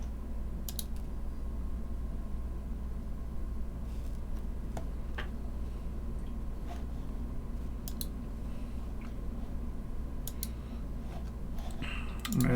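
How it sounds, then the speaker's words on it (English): Typing on a custom mechanical keyboard with lubed Tealios switches in a KBD8x II case: a steady, fairly faint patter of keystrokes with occasional sharper clicks over a constant background hum. "I'm going to do another typing test."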